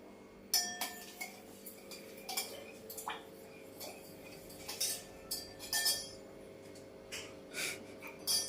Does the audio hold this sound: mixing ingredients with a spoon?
yes